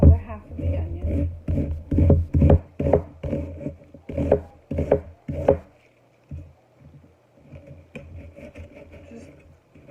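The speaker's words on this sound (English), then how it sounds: "chop our other half of the onion" Half an onion being chopped with a knife on a cutting board, a quick run of sharp, close knocks for several seconds that then slows to softer, scattered taps, with a voice speaking over it.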